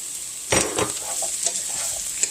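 Onions and potatoes fry in a pan for an O'Brien-style breakfast side, giving a steady hiss with a few louder scraping stirs near the start and one brief clatter near the end.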